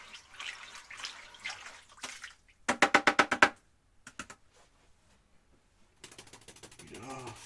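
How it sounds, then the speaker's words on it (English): Oil paint brush rinsed in water, with short bursts of splashing and rapid tapping knocks against a container, separated by quiet gaps. "Rinse off the brush."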